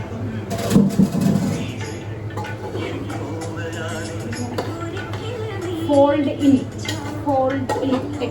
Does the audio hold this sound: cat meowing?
no